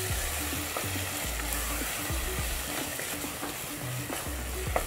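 Ground masala with tomatoes sizzles and fries steadily in a pan for a chicken gravy, with a continuous crackling hiss and occasional stirring scrapes throughout, no voices.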